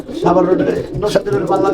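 Racing pigeons coo in throaty rolling bursts nearby, partly overlapped by someone speaking.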